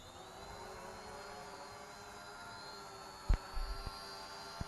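An Eachine E520s 4K camera drone hovers with a steady, even whine and hum from its motors, continuous throughout, with a few brief bumps and knocks near the end.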